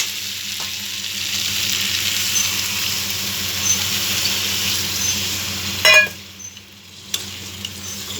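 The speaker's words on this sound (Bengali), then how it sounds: "জল দিয়ে দিচ্ছি" A pan of potato curry sizzles with a dense, continuous frying hiss as water goes in. Near the end comes a brief clatter of utensil or lid, then the hiss quiets.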